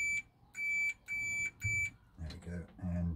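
Four short, high-pitched electronic beeps from a multimeter continuity test on a Truma Combi boiler element, in an even rhythm, followed by a voice speaking.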